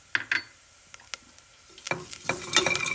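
Shredded coconut frying in a pan: a few sharp spoon clicks against the metal, then a louder crackling sizzle and scraping as it is stirred.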